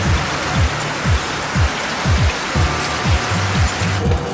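Heavy rain pours down at the Sturgis Rally outside the Full Throttle Saloon, a dense, steady hiss with a rhythmic series of low thumps rolling underneath throughout.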